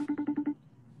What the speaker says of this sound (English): You better answer the fucking phone.